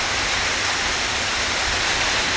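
Heavy rain pouring down on a Friday afternoon in the Barisal region of Bangladesh, a loud, dense, unbroken wash of hiss filling the air.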